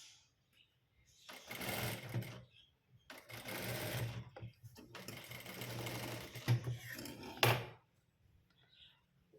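Usha Merit foot-pedal sewing machine stitching a blouse: three close, rapid mechanical runs of clattering stitches, each a couple of seconds long and separated by brief pauses.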